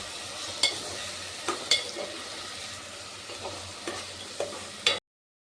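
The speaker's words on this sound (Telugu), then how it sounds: "ఇవి రెండు ఫ్రై అవుతున్నాయి కదండి" Boiled cauliflower and egg frying and being stirred in a pan, a steady close sizzle with a few sharp scraping clinks of the spatula at irregular intervals.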